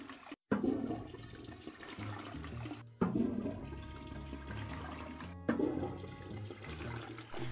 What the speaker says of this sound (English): Ooh, toilet